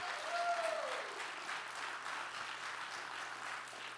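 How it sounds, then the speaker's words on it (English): A church congregation gives a round of applause during a worship service, steady, moderately loud clapping that continues evenly, with a brief whistle-like tone near the start. "give him a round of applause"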